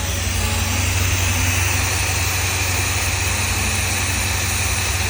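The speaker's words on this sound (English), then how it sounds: "So the idle's way too high" A car engine on its first cold start, idling too high, gives a steady, loud droning hum with a constant low rumble and no change in pitch throughout.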